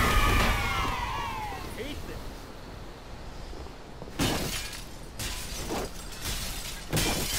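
Glass shatters in Halo 3, with crashing breaks followed by several bursts of splintering and tinkling shards amid steady game noise, while people talk over it.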